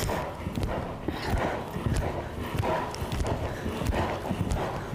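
Hooves clip-clop in a steady rhythm as a horse is ridden in dressage work on diagonals, moderately close, with faint background noise.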